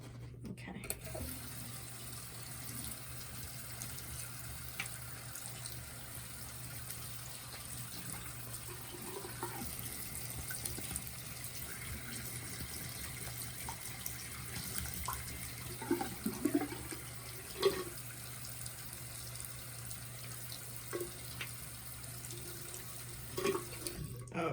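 Tap water runs steadily from a faucet into a sink while a makeup brush is rinsed clean of soap, a continuous moderate splashing wash with a few brief louder splatters.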